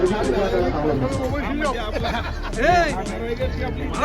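A dense crowd at a bullock cart race ground chatters all around, with many voices overlapping into a continuous close babble and a few louder voices rising above it.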